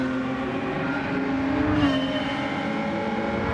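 A car engine revs steadily in the Forza Motorsport racing game at Spa, a loud continuous harmonic whine that climbs slightly in pitch before settling, heard close and alone.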